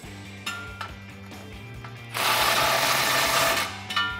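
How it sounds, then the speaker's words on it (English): A ratchet fitted with a 15 mm socket and a swivel joint tightens the exhaust bolts of a 2019-2020 RAM 1500 while a Corsa resonator delete kit goes in, giving a few spaced clicks and then a fast, loud ratcheting run. "grab your 15 socket and tighten them down"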